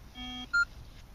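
Two short beeps from a Signum 7272M metal detector in mixed mode on a silver chain, the first a low buzzy tone and the second a higher, louder blip, over quiet background hiss.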